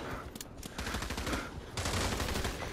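Gunfire in the VR shooter Pavlov comes as rapid, loud bursts of shots in quick succession, with a brief lull before the firing resumes.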